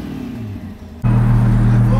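A Lamborghini engine idles with a low rumble, then abruptly surges louder at the midpoint into a steady, strong, close-up rev with deep harmonic drone; a voice talks faintly over the first half.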